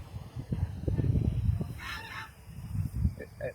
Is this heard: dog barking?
no